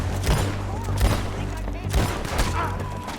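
Gunfire in the video game Red Dead Redemption 2, a rapid series of sharp rifle and pistol shots with booming reports in a close firefight, under faint in-game voices.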